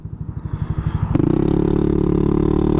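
A BMW motorcycle pulls away hard from a standstill, its pulsing idle rising into a loud, sustained engine roar as it accelerates off the line close by.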